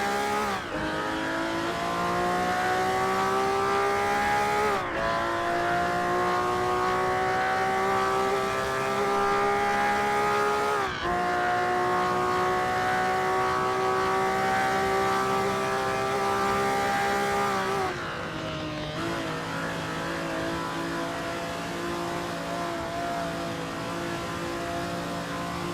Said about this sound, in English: first off we have this Ferrari 250 GTO. Released in 1962,